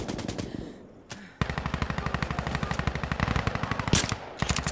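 Rapid automatic gunfire in the Insurgency: Sandstorm video game, with long loud bursts of evenly spaced shots after a brief single shot and a pause, close and dominant.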